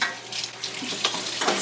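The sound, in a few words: thinly sliced food frying in pan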